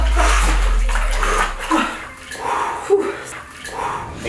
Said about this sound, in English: So we're going into our Edge Theory cold plunge.